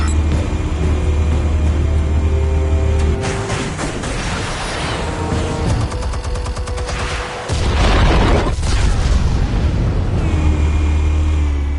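Explosions in the video game Batman: The Telltale Series, loud booming blasts and rumbling debris with a sharp cutoff and a second heavy burst, dense and close with game effects layered throughout.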